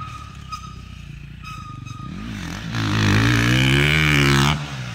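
An off-road motorcycle runs close practice laps. The engine idles and burbles at first, then revs up in a rising, loud roar with a clattering edge before it drops away.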